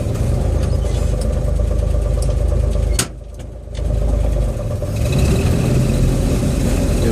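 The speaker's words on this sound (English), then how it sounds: "This is driving out of our cul-de-sac." A 1936 Dodge LC pickup's engine runs steadily and loud, with a brief dip in the rumble before it swells again as the truck pulls away out of a cul-de-sac on a frosty day.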